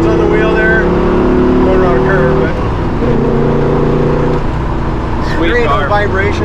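A 1978 Pontiac Trans Am with a 400 engine and four-speed manual accelerates loudly from inside the cabin, its engine note climbing, breaking off at a shift into third and then pulling again, with people talking over it.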